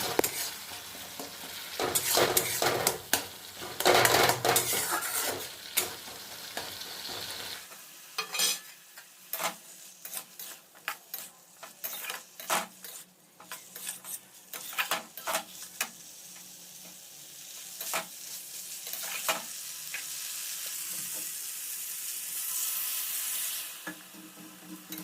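A vegetarian soybean and potato curry masala of tomato, cumin paste, coriander, chilli and turmeric sizzles in a pan. Repeated scraping stir strokes come in bursts over a softer crackle and fade toward the end, with no talk.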